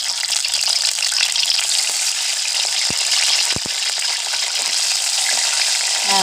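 Food fries in a pan with a loud, steady sizzle while it is stirred and turned, a few sharp scraping knocks of a utensil against the pan cutting through the hiss.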